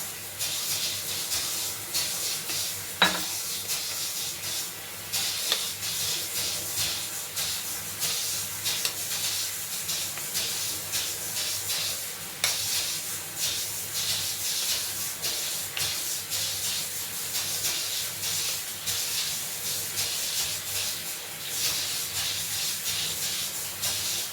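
Water added to a hot pan while making a semolina (suji) pancake brings a steady, loud sizzling hiss that runs unbroken for the whole stretch, with a few faint clicks and scrapes.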